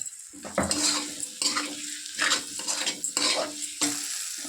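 Ground cumin and coriander being stirred in a hot frying pan for chicken chotpoti, with bursts of sizzling and scraping from repeated spoon strokes in an uneven rhythm, close and clear.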